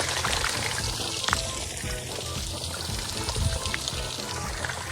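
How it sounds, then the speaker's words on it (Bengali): Irrigation water flowing steadily from a pipe into a muddy village field, a continuous pouring and trickling wash with faint background noise and no clear talk. "দেখো, এখনও কিন্তু কন্টিনিউ জল যাচ্ছে হয়তো কোনো একটা জমিতে"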